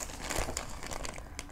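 Crinkling of a torn plastic packet being unwrapped, a close, continuous rustle with sharp crackles and no talk.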